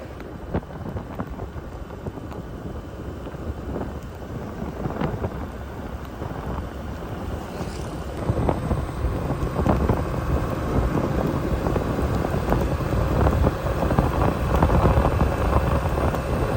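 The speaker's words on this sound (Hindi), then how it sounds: "अभी बारिश हो रही है" Heavy rain pouring down on a roadside by the Indus River, with rumbles of thunder rolling underneath; the downpour is steady and grows louder partway through, with no talking.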